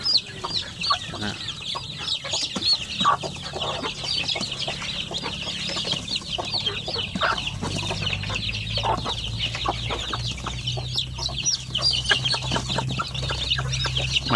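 A mother hen with her fourteen chicks clucks in a steady stream of soft, repeated notes among dense, high cheeping from the chicks, with faint background talk and low rural noise underneath.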